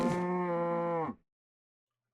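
Cows moo in the Minecraft video game on Xbox 360, one long, loud, steady low moo lasting about a second that then cuts off into silence, with no talk.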